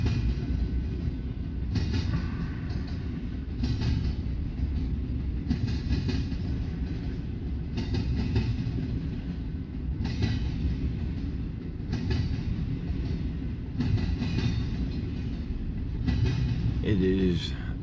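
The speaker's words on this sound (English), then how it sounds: "BNSF's intermodal that terminates here in Fremont is holding, waiting to get across the diamond" A BNSF intermodal freight train holds near the diamond crossing at Fremont, Nebraska, late at night, giving off a steady low rail rumble with faint clanking and a brief squeal near the end, under occasional distant talk.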